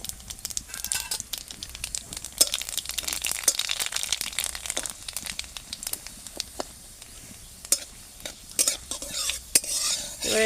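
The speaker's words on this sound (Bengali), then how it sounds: "এবারে তেলের উপরে দিয়ে দেবো শুকনো লঙ্কা আর কালো জিরে" Dry red chillies and nigella seeds hit hot oil in a pan, giving a steady close crackling sizzle, with a utensil scraping and clinking against the pan as they are stirred.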